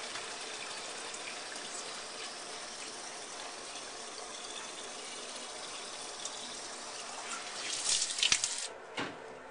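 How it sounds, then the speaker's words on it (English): Tap water runs steadily into plastic jugs during an aquarium water change, a continuous broad gush with a few louder splashes and shifts near the end, no voices. "filling up jug number 9, getting ready to use jug number 10"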